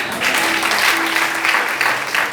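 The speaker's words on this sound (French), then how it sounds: "Acclame Jésus" A church congregation applauds in a sustained, dense wash of clapping, loud and close, with a faint tone held underneath throughout.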